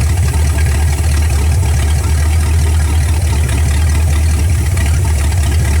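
A 1964 Dodge Polara's 383 big-block V8 idles during carburetor adjustment, a loud, steady, close low rumble with a constant even throb and no voices throughout.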